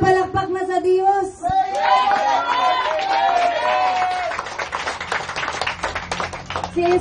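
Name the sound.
congregation clapping for God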